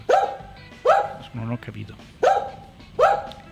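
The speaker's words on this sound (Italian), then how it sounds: "Non capisco se continuano ad abbaiare" A dog barks loudly and close in sharp single barks, four of them spaced evenly, with someone speaking briefly between them.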